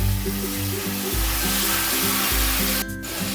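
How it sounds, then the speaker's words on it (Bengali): Masala paste with chilli fries in oil for an eggplant and hilsa curry, giving a dense, loud, close sizzle with a low steady hum underneath and a brief scraping stir near the end. "লঙ্কাটা দেওয়ার পরেও খুব ভালো করে আমি আরও কষিয়ে নেব"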